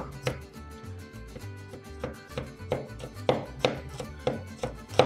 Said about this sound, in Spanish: ahora vamos a picar 3 dientes de ajo